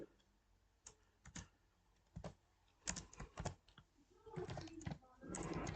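A computer keyboard clatters in uneven bursts of keystrokes while C code is typed, close and fairly quiet, with brief pauses and faint background voice in places.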